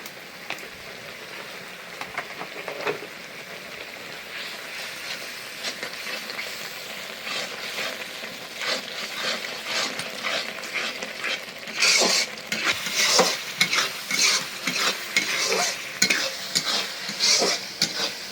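About 3 kg of beef with turmeric and spices is stirred in an oily black kadai, a low sizzle at first that turns to a run of loud, rhythmic scraping and slapping strokes in the second half.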